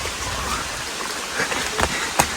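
Rain falls steadily at a viewpoint on Chilika Lake, a large brackish-water lake, as a constant close hiss with a few sharper drops and no voices.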